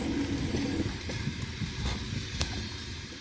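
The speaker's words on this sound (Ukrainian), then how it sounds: "Ось поїзд набирає швидкість. Чути стук коліс." A passenger train picks up speed over snowy station tracks in winter, its wheels giving a steady low rumble with a few faint clattering knocks, heard from nearby under light wind noise.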